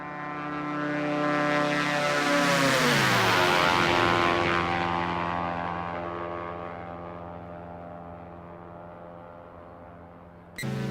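A simulated Diamond DA-62 twin-propeller aircraft in X-Plane 11 sweeps past in a flyby, its engine drone swelling loud, dropping in pitch as it passes, then fading into a receding hum.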